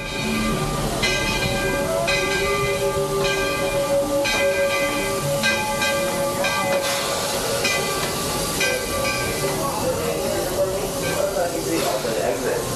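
A theme park train at Magic Kingdom rumbles and hisses steadily nearby, with tonal whistle-like notes and people talking over the continuous clatter.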